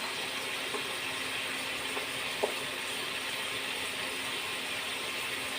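Thinly sliced jackfruit seeds dropped into hot oil and spices, giving a constant sizzling hiss with one small click partway through.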